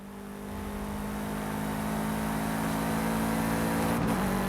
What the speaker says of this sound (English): it already sounds pretty great with the boxer engine this car has